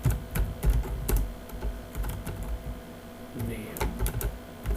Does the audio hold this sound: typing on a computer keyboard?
yes